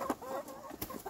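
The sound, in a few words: hens clucking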